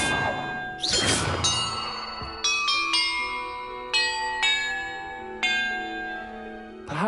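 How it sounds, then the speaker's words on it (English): Bells ringing in the Hogwarts Legacy game, a series of clear metallic strikes one after another, each leaving a long, bright, shimmering decay that overlaps the next, loud and close. "Perhaps the map contains clues about the order I'm supposed to ring the bells in."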